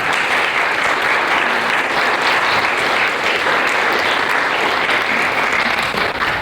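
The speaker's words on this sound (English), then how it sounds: "let's give a warm round of applause for Sue Garwood." Audience members at a community talk on Indigenous history clap warmly for a speaker, a loud, continuous wash of applause lasting several seconds.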